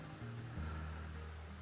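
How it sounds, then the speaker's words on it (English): A mountain creek called Fisherman Run along the Enola Low Grade Trail, a steady, soft rush of flowing water with a low, even hiss throughout. "All right, so here we have a creek coming down through the mountain."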